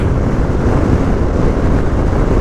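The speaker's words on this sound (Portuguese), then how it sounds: "E tá um vento muito forte." Strong wind buffets a vehicle driving on a highway in cloudy weather, producing a loud, continuous low roaring rush with no letup and no talk.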